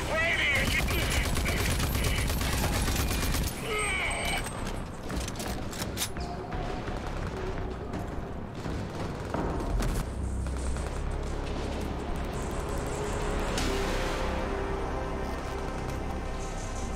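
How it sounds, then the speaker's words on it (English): Enemies shooting guns in the Rage 2 video game, dense bursts of gunfire and booms running throughout amid game music and effects, with a voice talking at times. "the dudes were behind me that was shooting me"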